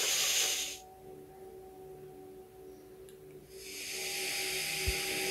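Broadband steam hissing from the video game Very Little Nightmares, loud at the start, cutting off for a few seconds, then returning steadily, with faint tonal game ambience underneath.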